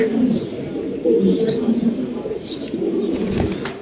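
A black male pigeon of the stretcher type coos in low, throaty rolls from close by, with other birds calling faintly and a voice talking over it.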